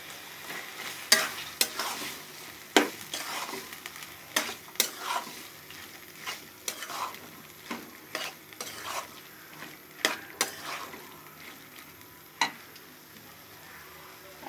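Chopped green chilies and onions frying in a pan for samosa filling, a soft sizzle under repeated sharp scrapes and clinks of a spatula stirring at irregular intervals throughout.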